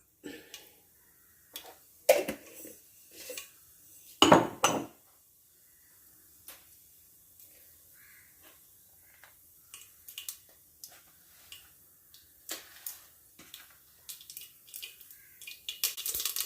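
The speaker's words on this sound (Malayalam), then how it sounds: "എണ്ണ ചൂടായിട്ടുണ്ട്. കടുക് ഇട്ട് കൊടുക്കാം." Mustard seeds splutter in hot oil: scattered sharp pops and crackles burst irregularly, a few louder near the start, then lighter spluttering ticks continue.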